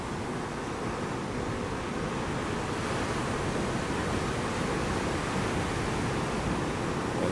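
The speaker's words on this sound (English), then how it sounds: "We're right on the edge of the sea basically." Sea surf at the shore beside a beach cabin in Petit Tacarib, Trinidad and Tobago, a steady unbroken roar of white water and wind filling the whole stretch, loud and continuous with no voices.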